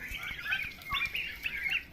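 Turkey hens grazing on grass give soft, repeated clucks and chirps at moderate distance, faint and uneven, with no talking.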